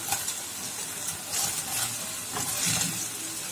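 Prawns frying in a pan for a restaurant-style chilli prawn dish: steady close sizzling of hot oil with intermittent stirring and scraping swells, heard alone without talk.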